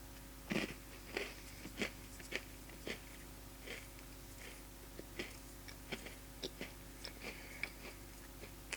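Someone close by crunches on a new peanut-butter Oreo cookie, eaten dry, with a quiet series of crisp bites and chewing crackles spread over several seconds, alone and without talk.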